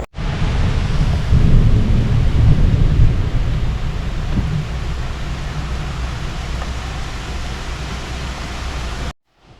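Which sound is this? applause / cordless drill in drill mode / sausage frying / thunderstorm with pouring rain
thunderstorm with pouring rain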